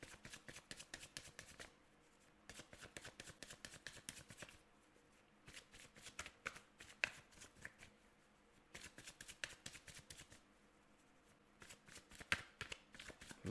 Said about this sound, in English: Loud shuffle.